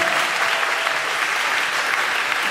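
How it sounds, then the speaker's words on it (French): A TV show studio audience applauds a philanthropist guest's entrance, a loud, dense, continuous wash of clapping with no pause. "c'est bien sûr Hassan Hayek que je demande d'applaudir"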